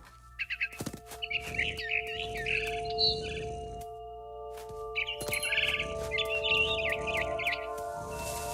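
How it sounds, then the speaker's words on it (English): A barn swallow chirps in the video game What Remains of Edith Finch, with bright high twitters in two bursts over a steady background drone. "Then I heard chirping outside my window. It was a barn swallow going back to her nest."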